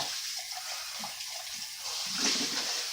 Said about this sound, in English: We want to take our measuring cup, which still has some sugar in it, give it a rinse.